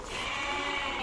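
Goats at the Deonar goat market in Mumbai, a busy livestock bazaar, with a steady wash of bleating and crowd noise close by, dense and continuous for about a second.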